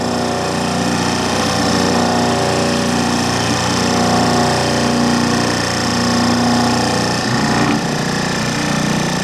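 A hydraulic pump runs steadily while priming, a loud, continuous mechanical drone with a rapid rhythmic chatter, close by and unbroken, with a brief shift in tone near the end.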